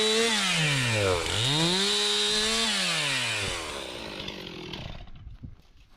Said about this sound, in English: if you cut it coming from the bottom up, your saws don't get as dull